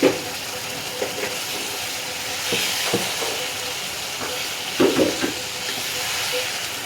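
Lightly fried hilsa pieces going into a hot mustard gravy, giving a steady broad sizzle and hiss throughout with a few soft clunks and taps as the fish is set in the pan.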